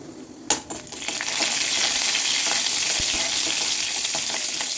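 Mustard seeds, urad dal and fennel seeds hit hot oil with a sharp clink, then burst into loud, continuous crackling and spluttering close by, sustained to the end without talk.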